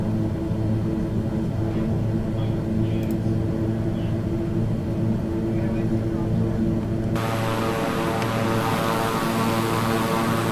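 A propeller airplane engine in a flight simulator game drones steadily with a loud, constant throbbing hum, shifting into a brighter, harsher tone partway through.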